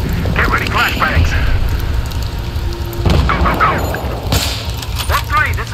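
Flashbang grenades going off during a breach in the video game Battlefield 3, several loud booming bursts over a rumbling background, with voices talking among the blasts.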